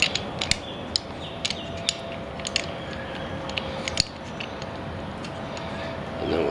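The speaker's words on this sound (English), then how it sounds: "And then we'll tighten it with the wrench." A wrench tightens screws on a budget scooter, heard as faint mechanical clicks and small ratcheting ticks spread across a steady background hum, close but quiet.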